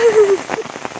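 Rain falls steadily on surfaces nearby, a close pattering of drops, with a brief voice at the start.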